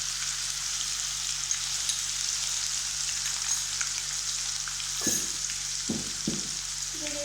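Small shallots sizzling and frying in oil in a pan for beef varattu, a steady bright crackle throughout, with a few stirring scrapes near the end and a faint low hum underneath.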